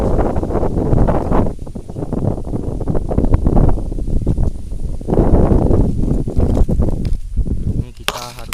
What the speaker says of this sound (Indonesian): soalnya anginnya begitu kencang sekali